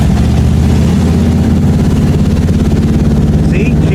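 A misfiring Buick car engine runs loud and close with a low, uneven, stumbling rumble that stays continuous throughout.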